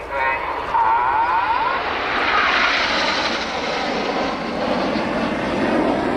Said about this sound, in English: The following pilots use a lot of rudder to swing the jets out like a pendulum.